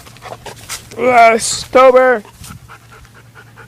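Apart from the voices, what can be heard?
dog panting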